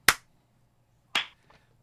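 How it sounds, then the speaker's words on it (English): Two sharp claps about a second apart, the second followed by a softer, scattered clap, as if several people clapped not quite in unison. "we'll do the clap."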